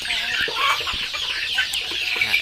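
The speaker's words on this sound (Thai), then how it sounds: "นี่เป็นสายพันธุ์ไก่พื้นเมืองแท้ๆนะครับ" Native Thai backyard chickens, two to three months old, kept together in a flock, cluck and peep continuously while feeding, a steady busy chatter of many birds close by with no talking.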